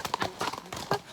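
A ridden horse's hooves clip-clop in short, irregular bursts while climbing a steep, narrow uphill path, fairly close.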